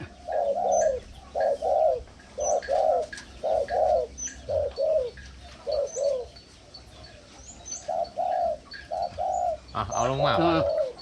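A zebra dove coos in a steady series of soft, rounded repeated notes, with faint chirps and a brief flutter near the end.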